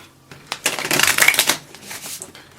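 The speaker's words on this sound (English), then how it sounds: "So let's get right into it and shuffle." Tarot cards being shuffled by hand, a dense papery riffle of quick flicks building over a second and then trailing off, close and fairly loud with no talking.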